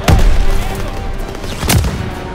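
Covering gunfire in a WW2 video game: two sharp loud shots about a second and a half apart, over a continuous rumbling battle bed with distant shooting.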